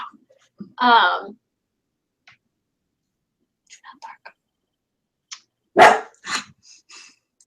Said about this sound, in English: If these dogs start barking, I'm going to have to mute myself